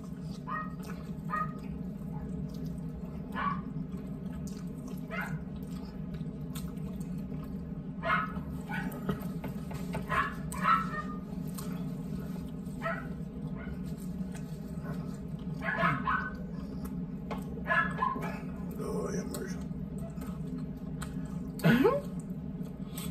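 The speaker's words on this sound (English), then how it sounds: "Barking. Them dogs are mad." Dogs bark intermittently at a moderate distance, with some whimpering, over a steady low background, while people talk nearby.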